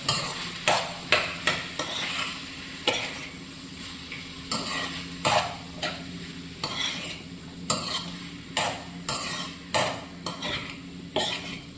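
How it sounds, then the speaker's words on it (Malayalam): Green peas stirred in a frying pan for a stew, a steady sizzle broken by repeated sharp scrapes and clinks of a spoon against the pan, close and fairly loud with no voices. "ഗ്രീൻ പീസ് ഇതും കൂടെ ഇട്ട് നമുക്ക് ഒന്ന് വഴറ്റിയിട്ട്"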